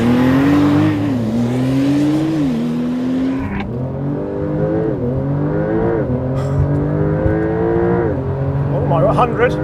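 A Porsche 911 Turbo S and a hot hatch accelerate hard in a drag race, engine pitch climbing through several gear changes, loud and sustained with a brief break, fading toward the end.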